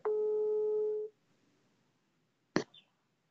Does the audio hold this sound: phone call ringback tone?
yes